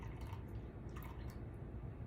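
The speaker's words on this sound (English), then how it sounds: "I'm going to pour my water in to where it says 100 again" Water poured from a container into a jar of sourdough starter sitting on a kitchen scale, a soft steady trickle and splash running continuously and close up, with no talking.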